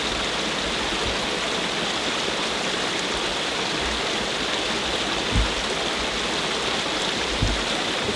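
Cranberry Creek at Nothstein Preserve in Paradise Township runs steadily over mossy rocks in an October hardwood forest, a continuous broadband rush of water with a couple of faint soft thumps.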